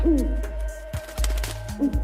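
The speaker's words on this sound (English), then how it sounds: "Is that an owl?" An owl hoots a few times, short wavering calls rising and falling close by, over a steady low hum with thuds and knocks around them and no talking.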